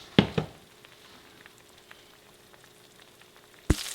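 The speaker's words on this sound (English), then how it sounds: "I put some more olive oil to help brown this venison" Faint, steady sizzle of venison chunks browning in olive oil in a frying pan, with a couple of sharp clunks near the start and one at the end.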